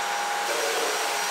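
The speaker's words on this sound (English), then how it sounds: "I have to vacuum the bathroom really quick." A vacuum cleaner runs loudly in a bathroom, a steady close whooshing roar with no pauses or talk.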